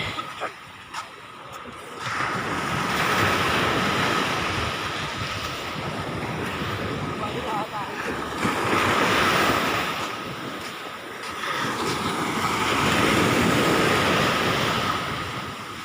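Sea waves surging onto a Philippine beach at high tide near dusk, a continuous loud roar swelling and easing in slow surges, with wind buffeting the microphone.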